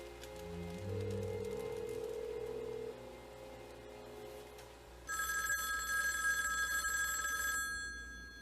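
A telephone bell rings in an indoor scene from a 1989 soap opera, a bright sustained ring sounding for a few seconds over a low room hum after some quieter background sounds.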